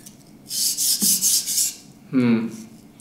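A knife is sharpened on a thick King Deluxe 800 whetstone, over 3 cm deep and coarse in feel, with several close, gritty rasping strokes in a steady rhythm. A brief, brighter ringing scrape follows near the end.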